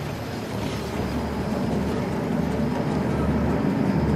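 A moving train in the video game Uncharted: The Lost Legacy, a continuous low rumbling roar that holds steady and builds slightly throughout, with no clear speech over it.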